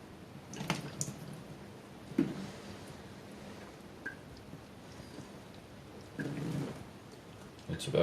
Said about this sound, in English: And then you top it up with the good water now that it's nice and thoroughly wet.